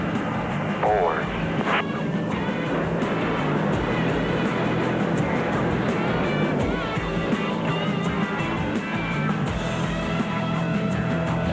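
Blue Angels jet engines roar at full power with afterburners, a loud, dense, sustained rumble. Someone talks over the noise throughout.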